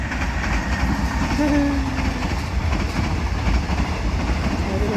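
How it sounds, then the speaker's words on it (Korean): A train rumbles past nearby, a continuous loud roar with rhythmic clatter of wheels on rails and a brief metallic squeal. "열차 지나가고 있어요"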